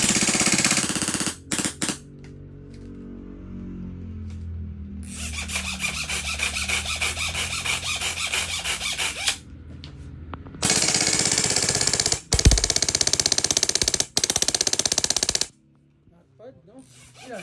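Ares Honey Badger HPA airsoft rifle firing full auto in several rapid, rattling bursts, with a mechanical whirring between them, loud and close.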